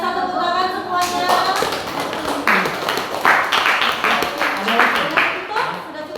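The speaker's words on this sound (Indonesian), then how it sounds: "tepuk tangan semuanya" Group of students clapping their hands after a classroom presentation, a dense run of close claps lasting several seconds with scattered voices mixed in.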